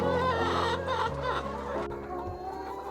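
Many layer hens at a 5,000-bird egg farm clucking together in a dense, continuous chorus, close and fairly loud, with overlapping calls throughout and no talking.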